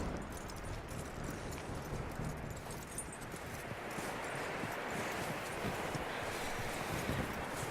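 Hooves of a horse in Red Dead Redemption 2 clip-clop in a steady walking rhythm, close and continuous, with a light rustle of wind and leaves behind them.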